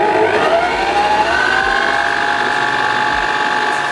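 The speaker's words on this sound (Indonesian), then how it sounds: "Ini aku pakai standing mixer yang Oxon." An Oxon stand mixer whirs loudly and steadily as it beats martabak manis batter, with a continuous motor whine that rises slightly in pitch and then holds, and no talking.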